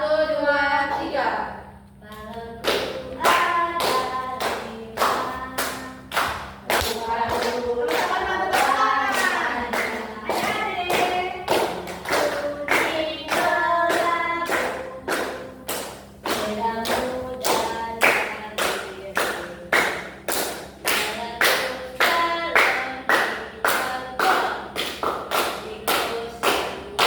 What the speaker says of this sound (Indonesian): tepuk tangan Ica